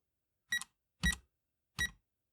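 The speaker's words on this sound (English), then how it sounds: "I don't want this to beep all video." Three short electronic beeps from a Timex Sinclair 2068 home computer during BASIC typing, evenly spaced and sharp, alone against silence.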